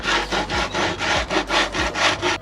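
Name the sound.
shaping plywood by hand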